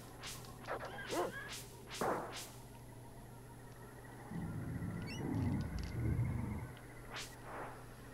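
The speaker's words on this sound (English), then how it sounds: "Come on, dog, get him." Dog in the Secret of Evermore video game giving several short sharp barks and yips, followed by a burst of low scuffling game sounds, over quiet background music.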